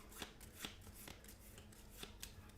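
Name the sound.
shuffling a deck of game cards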